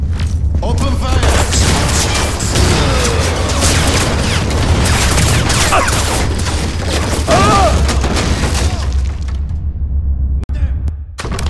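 Gunfire and booming blasts in Crysis Warhead, a loud sustained barrage of shots and thuds with brief voices in the mix, dropping away abruptly near the end.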